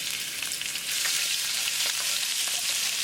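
Ginger and garlic fry with cumin seeds in hot olive oil, a close, continuous crackling sizzle with faint stirring, no voices over it.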